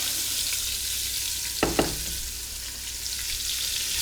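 Onion drops into hot rendered beef fat in a pan and sizzles and fries steadily, with a couple of sharp clatters from stirring partway through.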